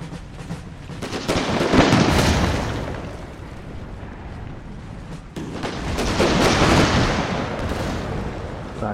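Rolling volleys of artillery cannon fire in Napoleon: Total War, with booms and crackling blasts swelling in two loud waves and a rumbling battle din between them.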